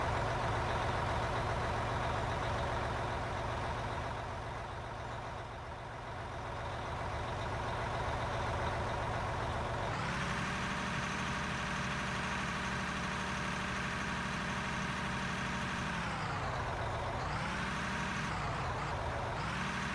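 A bulldozer's engine runs in the mining game Out of Ore, a steady, droning mechanical hum that dips briefly, then rises in pitch and load with wavering revs near the end.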